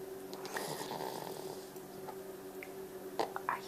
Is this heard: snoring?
yes